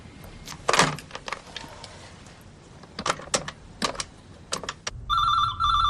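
A telephone rings near the end, a loud, even electronic trill, after a run of sharp, irregular clacks and knocks like typing or handling.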